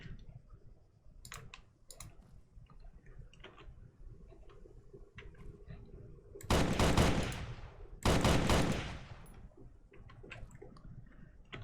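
Two short, loud bursts of SMG fire ring out in the shooter game Operation Trebuchet, standing out over quiet ticking and clicking in the background.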